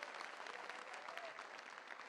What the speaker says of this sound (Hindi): आप जोरदार तालियों के साथ उनका इस्तकबाल करें।